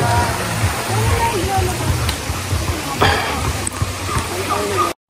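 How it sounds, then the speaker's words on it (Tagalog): Waterfall and river water on a riverside path make a continuous close rushing wash, while voices murmur faintly underneath and occasional knocks break through before the sound stops abruptly. "Di ba may talon dito"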